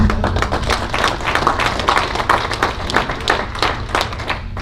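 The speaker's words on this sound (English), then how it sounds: "That means, yeah, applause." Close, loud clapping from an audience at a high school award ceremony, with distinct individual claps in a steady rhythm throughout.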